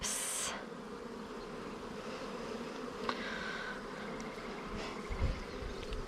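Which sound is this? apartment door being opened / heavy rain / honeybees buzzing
honeybees buzzing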